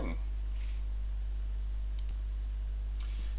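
A computer mouse clicks a few times, faint, sharp and sparse, while a computer is set up with FreeNAS and a VirtualBox jail; a steady low electrical hum runs underneath throughout.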